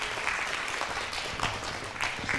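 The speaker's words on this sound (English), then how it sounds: "Give them a round of applause." Audience applause at a panel event on young women in the skilled trades, a steady wash of many hands clapping filling the whole stretch at moderate volume, with no talk over it.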